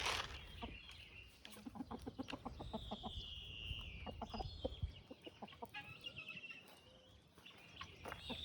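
Liege fighter chickens cluck and chatter close by in quick, repeated bursts, with a few higher calls and squawks rising over the flock.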